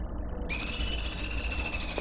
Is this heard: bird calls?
yes